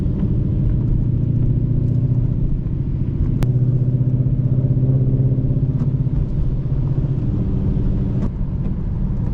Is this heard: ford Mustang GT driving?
yes